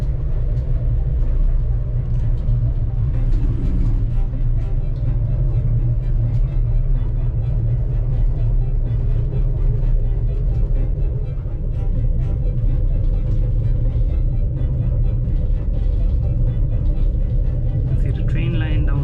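Interior of a Madrid cable car cabin during a ride: a steady low mechanical rumble and hum continues throughout, with faint creaks and a soft higher whine near the end.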